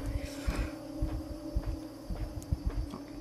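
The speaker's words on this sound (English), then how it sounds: "God, I hate the heartbeat. Can you hear the heartbeat?" A deep, muffled heartbeat pulses in repeated double thumps beneath a low hum in the video game INSIDE, steady and fairly loud.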